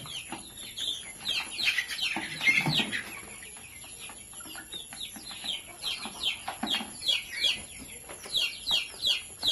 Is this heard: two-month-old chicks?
yes